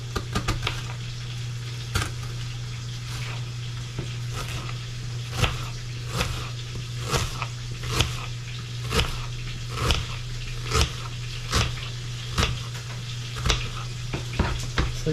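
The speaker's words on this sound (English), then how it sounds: "Right after you fry your onions goes the ginger garlic paste." Onions frying with ginger garlic paste in a pan for Bombay goat biryani, a steady close sizzle with a low hum beneath and regular stirring scrapes and clinks every second or so.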